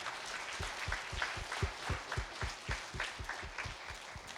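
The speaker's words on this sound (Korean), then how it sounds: "우리 하나님께 큰 박수로 한번 영광 올려드립시다" A church congregation applauds together, a dense wash of clapping with a steady rhythmic beat running through it, moderately distant and without speech over it.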